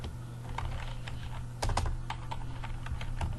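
Steady typing on a computer keyboard, with close, quick key clicks in an uneven rhythm over a low background hum.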